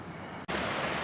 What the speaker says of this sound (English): So now we have more rushing water.